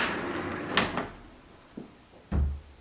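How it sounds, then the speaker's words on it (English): A bypass sliding door fitted with a soft-close kit rolls along its track and knocks with a soft bump at the end of travel, amid a few quieter clunks and rattles nearby. "You can hear the bump, so that one's over traveling"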